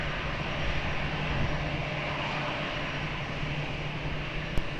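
Airliner taking off from runway 20 at Lisbon Airport, a dense, steady jet roar with a low engine drone holding at close range, unbroken for the few seconds heard.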